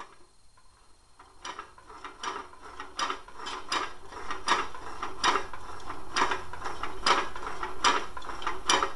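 Engine-driven can crusher built around a Jacobsen 800 engine, its crank and piston mechanism cycling steadily with rhythmic mechanical clacks and ratcheting clicks, close and moderately loud, starting after a quiet second and running without speech.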